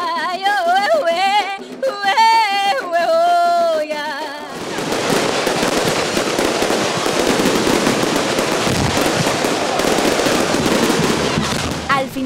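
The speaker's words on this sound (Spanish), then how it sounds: "Al final se da un despliegue de fuegos artificiales" Fireworks burst in a dense, continuous crackling barrage after a few seconds of music, loud and sustained to the end, at a festival in Panama.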